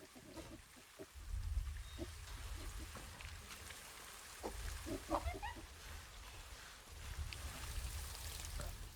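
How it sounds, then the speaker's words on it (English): Rain falls in the zoo management game Planet Zoo, a faint steady patter with soft drips, along with quiet animal noises and ambient sounds in the background. "And it's raining."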